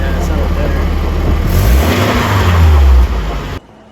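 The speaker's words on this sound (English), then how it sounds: "So now with the fuel pump done, car idles, starts up like a dream" A Nissan 240 engine with a newly replaced fuel pump runs close by, rumbling and swelling as it revs, then cutting off sharply at the end; voices can be heard over it.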